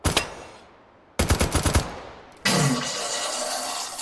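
M1911A1 pistol firing in a gun simulator video game: loud, close shots in a quick rapid string, followed by a sustained noisy blast and roar.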